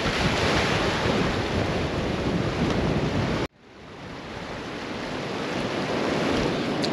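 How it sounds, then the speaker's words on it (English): Storm waves on Lake Erie wash against rocks along a shoreline road, a loud, continuous roar of surf with heavy wind buffeting, cut off abruptly midway and then swelling back. "the waves are getting right underneath the rocks"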